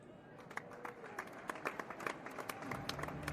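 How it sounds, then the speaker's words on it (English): Faint stadium crowd noise from a Blue Jays versus Mariners baseball game hums in the background, dotted with sharp bursts of scattered clapping and rising murmurs. "get rid of the crowd noise"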